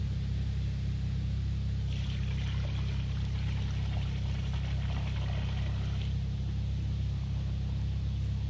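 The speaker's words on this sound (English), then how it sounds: "let's go ahead and pour some more solution" Concrete sealer solution for exposed aggregate concrete is poured out in a steady liquid stream that swells in the middle stretch, close over a constant low rumble, with no voices.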